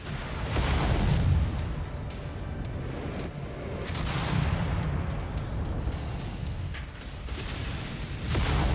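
Incoming missile explosions in the MechWarrior 5 video game roll as a dense, continuous barrage of heavy booms and rumbling blasts, loud and steady with surging peaks and no voices.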